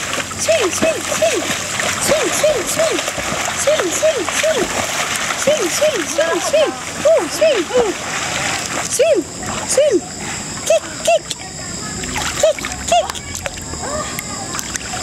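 A child swims and kicks in water, making a run of quick, rhythmic splashes close by, with adults calling out and cheering over them.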